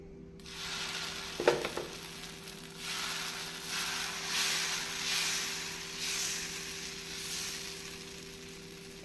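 Dosa batter poured onto a hot griddle greased with oil and rubbed with a small onion hisses into a steady sizzle after a brief clatter, rising and falling gently over a constant low hum.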